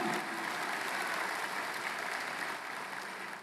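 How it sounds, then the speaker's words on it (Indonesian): A church congregation at an Easter service claps steadily for several seconds, a dense, even wash of applause that tails off slightly at the end. "beri tepuk tangan buat Yesus yang sudah bangkit."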